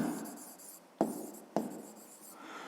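Pen or marker strokes write math notes on paper, soft scratching scribbles broken by two sharp taps, quiet and close with no talking.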